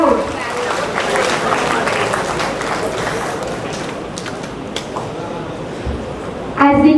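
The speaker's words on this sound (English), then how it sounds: "Let's give a huge round of applause to all our achievers for making our college proud." An audience in a college hall applauds its achievers at an Ambedkar Jayanti programme. A dense wash of many hands clapping mixes with crowd murmur, gradually thinning, before a voice cuts in near the end.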